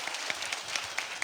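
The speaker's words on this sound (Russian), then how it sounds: "провожаем вашими теплыми аплодисментами" Audience clapping at an architecture award ceremony, a soft, fairly distant patter of many hands with a few sharper claps standing out, steady through the whole brief stretch with no voices.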